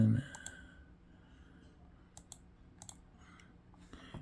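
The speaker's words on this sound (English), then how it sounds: "this is a right click." A few sharp right clicks from a Dareu vertical wireless ergonomic mouse, close up and isolated, spaced irregularly across a quiet room with a faint hum.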